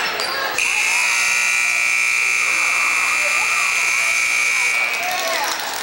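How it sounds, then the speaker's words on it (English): A long, loud, steady halftime buzzer blares for several seconds over crowd noise at a girls' varsity basketball game in a gym, cutting off abruptly near the end. "that extra long buzzer signifies that we're at halftime"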